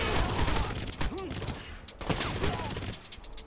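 Gunfire in the video game Crysis aimed at a vehicle tire, a burst of loud, close shots with sharp cracks clustered at the start and again near the middle, mixed with game noise.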